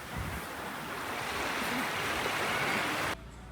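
Surf washing onto Playa Calqui, a small beach on Curaçao, as a continuous broad rush of waves with some wind buffeting the microphone, steady and fairly close, cutting off abruptly near the end.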